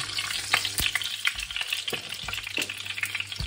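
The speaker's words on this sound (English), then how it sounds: "the pork choi's going into the pan. We're going to quickly stir fry this up" Pak choi stir-frying with olive oil and garlic in a pan, a steady close sizzle broken by short scraping stirs and tossing knocks, no voices.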